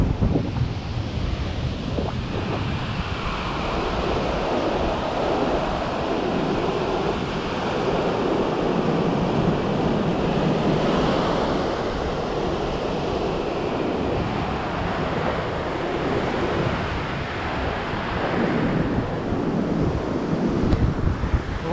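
Sea waves wash steadily onto the shore near Haifa in a continuous loud roar of surf, mixed with heavy wind buffeting the microphone, with no voices.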